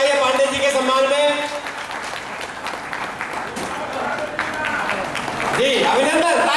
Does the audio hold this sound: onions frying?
no